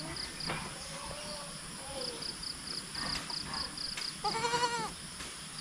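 Goats on a farm, including a large male, bleating now and then over a steady buzz of insects, with a louder wavering bleat near the end.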